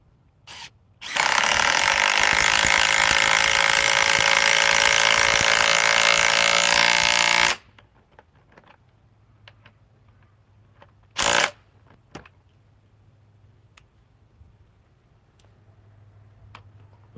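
A DeWalt power tool runs in one loud, close burst of about six seconds, then stops, leaving quiet room tone with a few small ticks and a short later blip.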